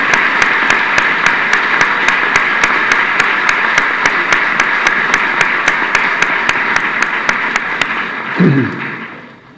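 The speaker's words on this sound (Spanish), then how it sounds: "Recibamos con un fuerte aplauso al doctor Roberto Meli Piraya" A lecture-hall audience gives a warm round of applause to welcome a speaker at a keynote lecture on earthquakes in Mexico City, with loud, dense clapping that carries a steady rhythmic pulse, then fades out into a short low rumble.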